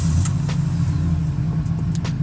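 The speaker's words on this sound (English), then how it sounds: "I have to start up the car to be able to put it in reverse" The van's engine runs at a steady, low idle with a continuous rumble close by, along with a few faint clicks and no voices.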